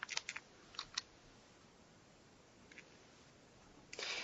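Keys on a computer keyboard are tapped during an online tabletop game session, a few faint clustered clicks spread over quiet room tone, with a slightly louder burst at the end.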